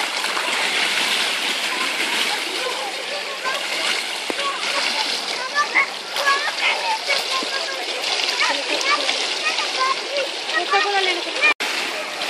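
Children dive and splash in a swimming pool during a lesson: constant loud churning splashes and water noise throughout, with voices talking and calling over it.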